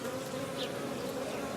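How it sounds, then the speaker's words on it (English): Honey bees buzz in a dense, steady drone inside a speaker box hive being removed, the swarm sound close and continuous throughout. "I'll just continue trying to get these bees out of here"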